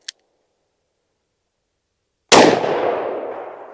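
.357 magnum round fired from a snub-nose J-frame revolver at a chronograph session: a single sharp, very loud report after near silence, trailing off in a long, fading echo.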